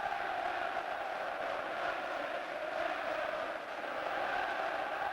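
Football crowd at the 1990 FA Cup Final between Crystal Palace and Manchester United, a steady distant roar of massed voices that sits as a continuous even wash, faint and unbroken.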